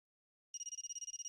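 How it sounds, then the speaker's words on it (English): A phone ringtone from the visual novel Saya no Uta rings through a house, a quick steady run of electronic pulses starting after a short silence, clear and alone. "a familiar ringtone echoes through the house"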